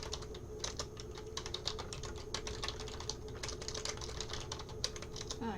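Rapid clicking keystrokes on a computer keyboard as a guest name is entered into an order form, irregular bursts of taps close by over a faint steady hum, no talking.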